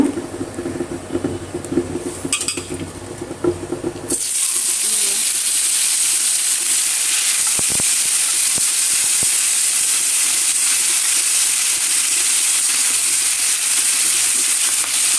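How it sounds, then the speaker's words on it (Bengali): Fish dropped into hot oil in a flat pan, a loud steady hiss and sizzle that starts abruptly and then holds without letup, with a few faint clicks. "তাওয়াটা বসিয়ে দিয়েছি আগে, তেলগুলো ভালোভাবে গরম হয়ে গেছে। এখন মাছটা দিয়ে নিব।"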